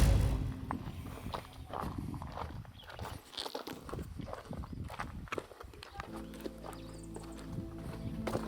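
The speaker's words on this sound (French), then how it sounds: "on est allé voir des chevaux" Horses walk nearby, their hooves clip-clopping irregularly under voices and outdoor background noise, with a possible brief whinny.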